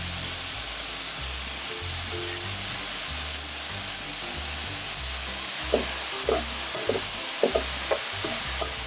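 King oyster mushrooms and blanched broccoli stir-fry in a pan with a constant sizzling hiss, joined toward the end by a few sharp clinks and taps.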